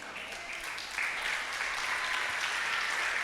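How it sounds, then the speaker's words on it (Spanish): A church congregation applauds the Lord during a Spanish-language service, a soft spread of clapping that swells slightly after the first second and then holds steady and distant. "Dale un fuerte aplauso al Señor."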